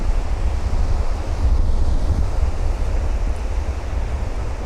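Sea surf washes in at Hastings Pier at low tide, a loud, continuous roar of breaking waves with heavy wind buffeting the microphone and no voices.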